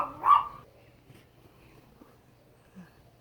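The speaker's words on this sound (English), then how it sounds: "my puppy was disturbing the video, so I had to pause it for a bit" A puppy gives one short, sharp bark close up, followed by faint small yips and whimpers in a quiet room.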